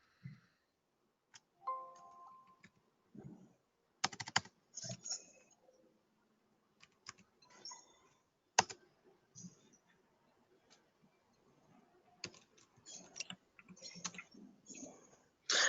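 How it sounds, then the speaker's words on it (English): Scattered typing on a computer keyboard during an online technical session, with sparse, irregular key clicks and short bursts spread across a quiet stretch. "let me type that one."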